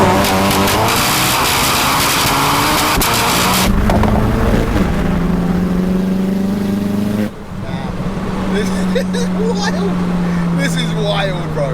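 A 900bhp front-wheel-drive SEAT Leon Cupra drives on the road with a loud, droning engine that rises and falls in pitch, heard from inside the car, while someone talks over it throughout.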